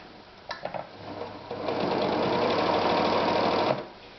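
A Victoria 124 sewing machine sews a blind stitch, starting with a few brief stuttering bursts before settling into a steady, close mechanical whirr that runs for about two seconds and then stops.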